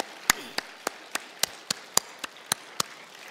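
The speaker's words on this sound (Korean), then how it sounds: "존귀와 영광의 박수부터 납시다." Slow, evenly spaced single claps at a Korean Sunday worship service, about ten sharp hand strikes roughly a third of a second apart, close and distinct over a quiet background.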